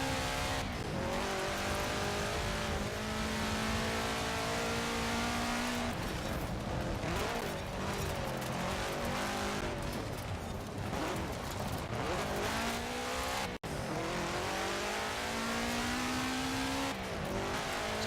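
A rally car in a racing video game revs hard through its gears, its engine pitch climbing and dropping repeatedly with a sharp thump from a jump partway through. Tire noise runs continuously under the loud, close engine with no speech.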